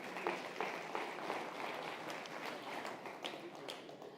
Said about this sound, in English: Let's give our Honourable Minister a big round of applause.